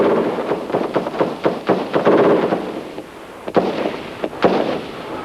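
Gunfire in a shootout between German troops and Serbian snipers in Prizren, Kosovo: a rapid series of sharp cracks and bangs over several seconds, with a couple of louder isolated reports near the end.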